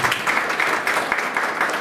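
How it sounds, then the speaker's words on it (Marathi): An audience applauds a speaker at a lecture on modern India's makers, with dense, continuous, fairly loud clapping throughout. "तर अशा व्यक्तीसाठी डॉक्टर स्नेहल तावरे यांच्यासाठी जरा जोरदार टाळ्या पाहिजे."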